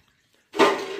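Water is poured onto measured sago pearls (javvarisi) to soak them; after half a second of silence a close, steady pour starts abruptly and keeps running to the end.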